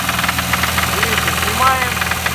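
The engine of a VAZ 2101 car knocks steadily while idling, a rapid mechanical tapping close to the microphone beneath a constant low engine hum.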